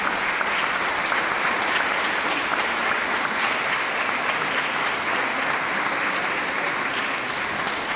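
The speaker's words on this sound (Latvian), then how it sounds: "Lūdzu aplausus." An audience claps steadily at a children's Christmas charity concert, dense sustained applause filling the room, with no pauses.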